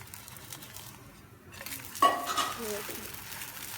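An egg paratha is flipped in a pan with a sudden clink and scrape of the utensil against metal, followed by a soft sizzle. The sound is quiet and close with no voices.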